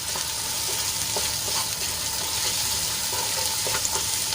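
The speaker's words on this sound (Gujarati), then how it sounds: "તો ડુંગળીને આપણે ઢાંકીને સંતળાવા દઈશું" Chopped onions sauté in a covered pan with salt for a quick Gujarati curry, giving a steady soft sizzle and hiss with a few faint clicks of the lid or spoon, and no voices.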